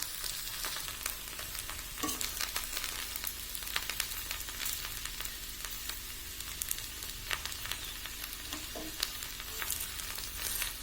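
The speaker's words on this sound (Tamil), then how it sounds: "வெண்டைக்காய் நல்லா வணங்கிடும் மீடியம் ஃப்ளேம்லேயே வச்சு வணக்குங்க" Sliced okra sautés in a pan over a medium flame, giving a steady, close sizzle with occasional stirring scrapes and no voices.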